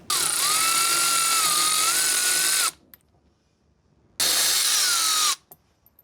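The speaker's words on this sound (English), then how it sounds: "We do have to go ahead and remove these 10mm bolts right here." A power tool whirs loudly while backing out 10mm bolts from a tail light liner on a Ford Bronco, with two bursts of steady high-speed spinning separated by a short quiet gap.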